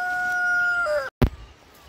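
A rooster at a mountain farmhouse chicken coop gives a loud, close crow that breaks off abruptly, followed by a short sharp cluck or squawk.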